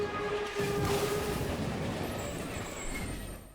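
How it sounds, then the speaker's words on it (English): A train wreck sound effect: a train rumbles loudly with grinding metallic noise and a high brake squeal, sustained and close. "A complete train wreck?"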